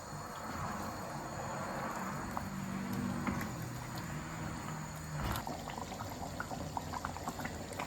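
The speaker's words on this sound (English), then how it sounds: "Now this mutton gravy has been bubbling away for the last 10 minutes." Sri Lankan Tamil mutton gravy thick with masala powders bubbling steadily in a pot, a continuous close simmer with soft pops and small bursts throughout, no one talking.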